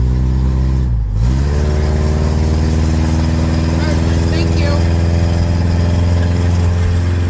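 A loud car engine revs and drops briefly, then holds a strong, steady roar close by, with a short spoken remark.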